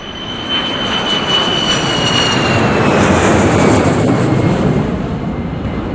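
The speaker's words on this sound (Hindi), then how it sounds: "वहाँ पे जो जेट्स, फाइटर जेट्स उड़ते थे दिन में 3-4 दफ़ा" Fighter jets flying over an air base area near Bhuj, heard as a loud, sustained roar with a descending whine that swells and fades across the pass, alone without voices.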